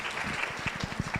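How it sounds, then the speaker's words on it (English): Guests at a breakfast event in Polokwane, Limpopo, welcoming Miss South Africa 2022 clap their hands. The claps are soft, fairly distant and loosely rhythmic, set against a low room hum. "Let's clap hands for them."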